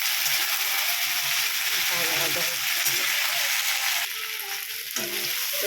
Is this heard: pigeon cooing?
no